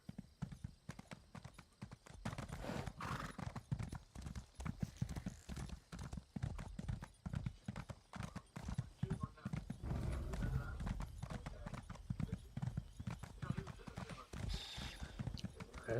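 Horse hooves in the video game Elder Scrolls Online clip-clop in a quick, regular rhythm for a long stretch, close and clear, with some talking underneath.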